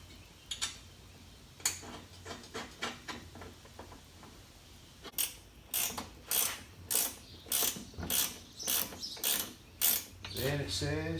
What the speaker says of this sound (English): Place a 1/4" nut on bolt and tighten.